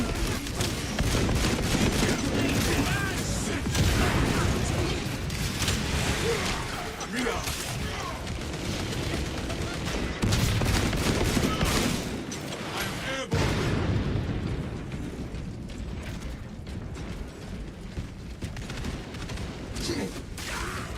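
Frag grenade blast in a video game amid dense, continuous gunfire and booming explosions, loud and sustained throughout, with voices talking over the chaotic battle noise.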